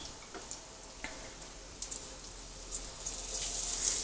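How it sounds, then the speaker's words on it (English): Sausages frying in bacon fat in a pan for fried cabbage, giving a soft, steady crackle with scattered pops that swells louder and denser toward the end, with no talking. "I'm going to let them fry up in this bacon fat"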